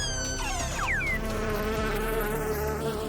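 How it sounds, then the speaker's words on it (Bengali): A bee buzzes close by with a steady insect drone, its pitch sliding up and down as it moves around. "মৌমাছি"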